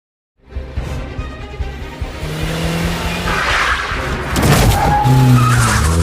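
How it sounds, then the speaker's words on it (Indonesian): A car in an action film speeding away with a long skid and tire squeal, engine revving and whooshing louder over several seconds, close and forceful. "Morgan pun segera menghidupi mobil tersebut untuk dirinya bisa kabur lebih jauh."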